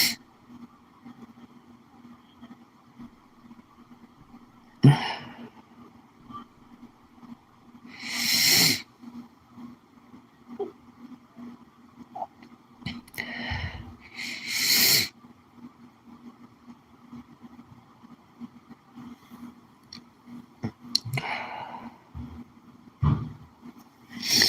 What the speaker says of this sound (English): She needs to blow her nose.